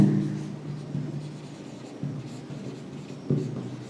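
Writing during a physics lesson on motion, probably marker or pen strokes on a board, short low scratchy strokes over a steady room hum, fairly close with no speech.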